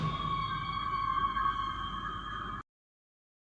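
A rock horror shock sound effect from a sample pack: a sustained, ringing tonal hit with layered harmonics, loud and steady for about two and a half seconds before cutting off abruptly into silence.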